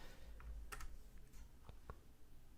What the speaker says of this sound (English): I'm going to type this in again and actually add it